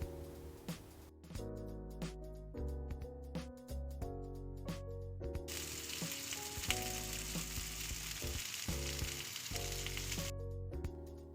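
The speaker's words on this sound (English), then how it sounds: "Heat a pan, add some oil and then add the fish pieces to fry." Fish pieces laid into hot oil in a pan give a soft, continuous sizzle that swells for several seconds, quiet beneath tuneful background music.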